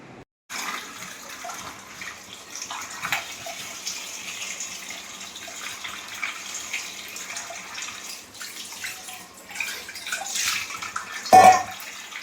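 Tap water runs steadily while fish are rinsed in a kitchen, a continuous splashing rush lasting the whole stretch, with a brief louder clatter near the end and no talking.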